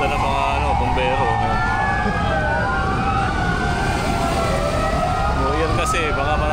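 Several fire engine sirens from a New Year's firefighters' parade wail continuously, their sweeping tones overlapping over a constant roar of traffic and wind, with a faint voice underneath.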